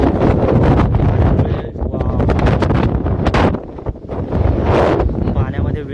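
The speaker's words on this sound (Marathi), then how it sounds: "पूर्ण किती भयानक वारा वाहतोय बघ इथे" Strong gusty wind on a lake at Korigad fort buffets the microphone with loud, rumbling roars that rise and dip in waves, with people talking underneath.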